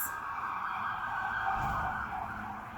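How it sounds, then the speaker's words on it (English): An emergency siren wails loudly nearby, its tone sweeping up and down as it passes, with no talking. "Had to let that siren go by."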